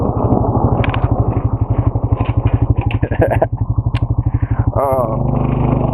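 An ATV engine revs steadily close by as the quad slides sideways across a solid sheet of ice, its rapid pulsing exhaust continuous throughout with brief clatter near the end.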